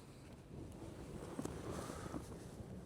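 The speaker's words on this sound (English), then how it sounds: "with it being so windy and whatnot" Steady gusting wind buffeting a microphone at a mountain summit camp on Red Screes in the Lake District, a continuous low rumble with brief stronger gusts and no talk.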